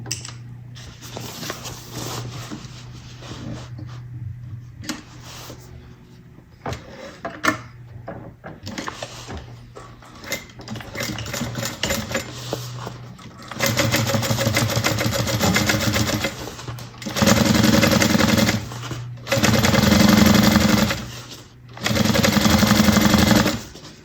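A sewing machine top stitches a bag lining panel, first with soft handling and fabric shuffling, then several loud sustained runs of rapid stitching separated by short pauses.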